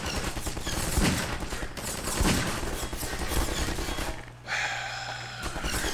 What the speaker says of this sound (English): Gordon Freeman's just here taking shots.